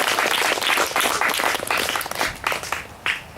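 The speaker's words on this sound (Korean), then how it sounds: "우리 다 크게 환영과 격려의 박수 드리겠습니다" Church congregation claps loudly to welcome members back, a dense, close burst of many hands during a worship service, steady for a few seconds with no talking.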